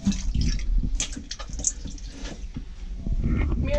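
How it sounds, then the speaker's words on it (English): Water comes from a sink foot pump on a 45-foot sailboat, uneven splashing and trickling spurts into the basin, close and moderately loud. "foot pump is back, so we've got water"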